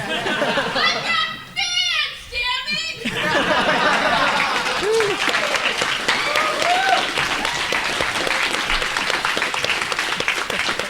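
A fan convention crowd at a pony fandom event in Seattle bursts into loud cheering, screaming and sustained applause after a short stretch of talk, the noisy clapping and shouts carrying on to the end.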